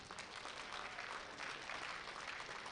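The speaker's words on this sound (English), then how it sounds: "Give the boys another round of applause." An audience at a powerlifting national championship applauds medal winners, a steady wash of clapping heard from a distance at low volume.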